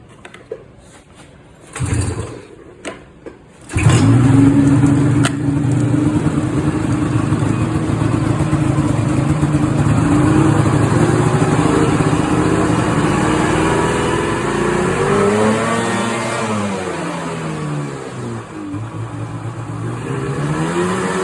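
A Ski-Doo Summit snowmobile engine, fitted with a new motor mount and losing power above 7,000 RPM, starts up after a few knocks and revs loud and close, holding a steady high drone with rising and falling pitch sweeps near the end.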